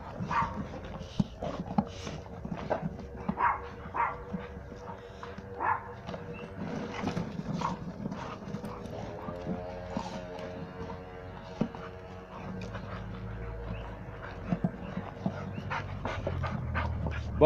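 A small 34-pound dog pants hard and snuffles while playing energetically in a kennel, with occasional thumps and brief yips over steady close panting.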